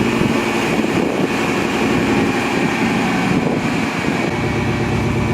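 An old OBS Chevy pickup with newly fixed steering rolls down the road, and a steady loud engine and road drone fills the cab from the inside without a break.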